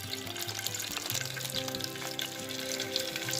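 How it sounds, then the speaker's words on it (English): Curry powder frying in olive oil in a pot, a steady close sizzle with soft stirring scrapes running throughout, no voices. "we're going to kind of mix around our curry here"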